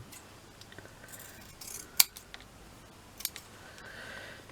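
Scissors snip thread while a wedding flower is being made, giving a few quiet, crisp clicks, one sharper snip standing out, then a couple more faint cuts against a soft background.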